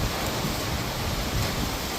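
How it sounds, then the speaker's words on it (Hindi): Heavy rain pouring during a storm, a dense continuous hiss close by with low gusty rumble underneath, steady and unbroken, with no voices. "और बारिश भी शुरू हो गई है अच्छी खासी"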